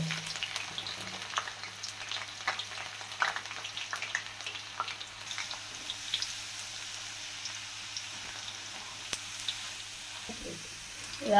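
Raw jackfruit chips crackle and sizzle steadily in hot oil, a soft, even patter of frying with scattered pops, fairly quiet and heard alone.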